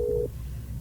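A cellphone gives one brief, steady electronic tone that cuts off after a moment, leaving low background hum.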